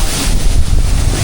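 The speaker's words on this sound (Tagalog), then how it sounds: "Grabe yung bagsak ng tubig." A waterfall on a day tour from Dumaguete, a loud, dense, continuous rush of falling water mixed with wind buffeting, close and steady with no voices.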